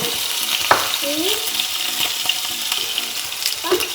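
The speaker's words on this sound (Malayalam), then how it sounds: "ഈ കടുക് നമുക്ക് പൊട്ടി തുടക്കുമ്പോൾ അതിനകത്തോട്ട് ഒരു നുള്ളി ജീരകം ഇട്ട് കൊടുക്കണേ" Mustard seeds, cumin and green chillies sizzle and crackle steadily in hot oil, with a few sharp pops and the scrape of stirring close by, and no voices.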